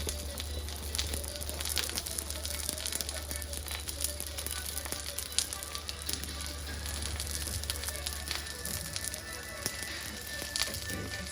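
A black bean and mushroom burger patty cooks in a pan with a steady, soft crackling sizzle under a low constant hum, continuous and even throughout.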